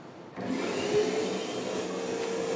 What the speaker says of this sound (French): Oh, il est chiant cet aspirateur, il est là toutes les semaines.